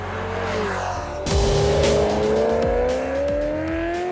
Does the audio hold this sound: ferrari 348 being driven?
yes